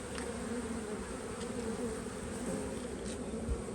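A dense, steady hum of many bees buzzing close by, continuous and fairly quiet, with no voices.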